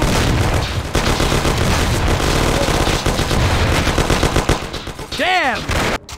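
Sustained gunfire in a video game shootout set in 1930s gangster-era Mafia: The City of Lost Heaven, with dense overlapping machine-gun bursts and booming shots filling the scene nonstop, and a brief whistling ricochet-like sweep near the end.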